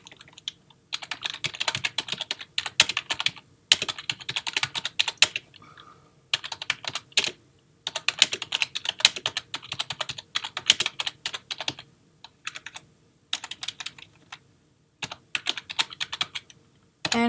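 Someone types on a computer keyboard, quick clattering keystrokes arriving in bursts of several seconds separated by short pauses, close and clear with no talking.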